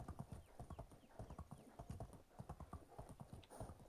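Horse hooves in the Medieval Dynasty game, a brisk, even clip-clop of steady trotting close by, with a brief whinny mixed in and no speech.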